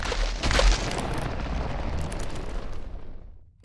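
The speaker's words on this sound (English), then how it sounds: "The Creaking itself has a number of new sounds for spawning" A deep, rumbling burst with a crackling, crumbling texture that swells early and then fades away, the Creaking mob spawning in Minecraft.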